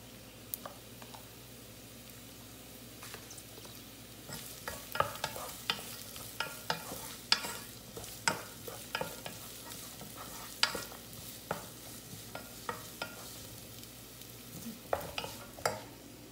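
Onion and garlic frying in a pan for a vegetable dish, a steady sizzle with repeated scraping stirs and clicks of a utensil against the pan, close and without talk.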